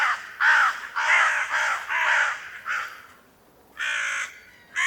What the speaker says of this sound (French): Les corbeaux transis croassaient.